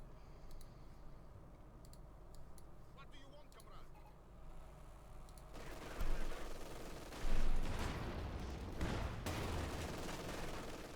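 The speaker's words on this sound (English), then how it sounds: "but MD42 got a field gun bombardment" Field gun bombardment and gunfire in Company of Heroes 2, a real-time World War II strategy game: bursts of shelling and rapid shots grow louder in the second half, with a commentator talking throughout.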